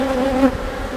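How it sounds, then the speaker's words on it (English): Honeybees buzzing loudly and close as a hive frame is shaken, with a strong steady drone that swells briefly and then settles into a rougher, scattered hum. "I'm going to shake most of the bees off just to make sure this colony does have a queen."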